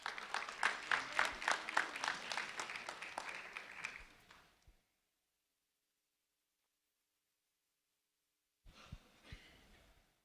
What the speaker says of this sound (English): a round of applause for Rosalie